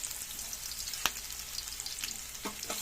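Minced garlic sautéing in a hot pan: a steady, fine crackling sizzle with one sharp clack near the start and a few soft stirring scrapes toward the end, with no voices.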